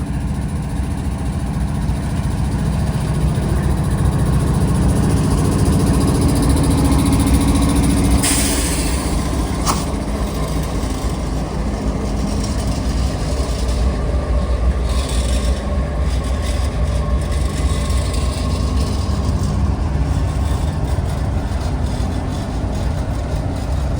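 A heavy coal train with a DPU locomotive rolls through a railroad crossing at night, giving a long, steady rumble of wagons with faint wheel squeals and clanks, and no talking.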